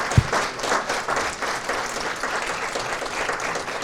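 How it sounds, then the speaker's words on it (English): A room of listeners claps in sustained, even applause after a talk about living with multiple sclerosis, a dense continuous patter of many hands with no voices on top. "Round of applause"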